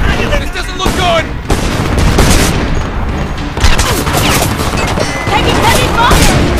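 Heavy gunfire rips through a Homefront firefight, with dense overlapping bursts, booming blasts and sustained automatic fire running loud and continuous for the whole stretch, under shouted voices.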